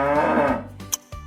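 A low cow moo trailing off, close and steady, then a couple of brief clicks as it fades.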